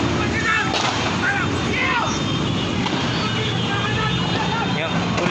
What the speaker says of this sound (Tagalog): Grabing putukan dito.